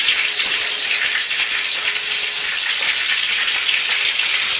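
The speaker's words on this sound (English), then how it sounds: "That nice sizzling sound, that means it's going nicely." Steady, loud sizzling of a tuna steak frying in a hot pan, a continuous crackling hiss with no talking.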